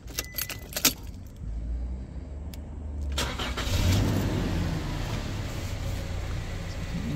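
Keys jangle close up, then a 2018 Toyota Hilux Workmate dual cab's 2.7-litre petrol engine cranks and catches around three seconds in, settling into a steady, fairly loud idle.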